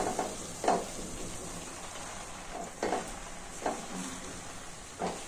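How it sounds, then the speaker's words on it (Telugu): Puffed rice tossed in a hot oiled pan with tamarind for uggani gives a soft sizzling bed broken by about six rhythmic scraping stirs of a spatula, close and moderate in level, with no voices. "ఇప్పుడు బొరుగులు వేసేస్తానండి."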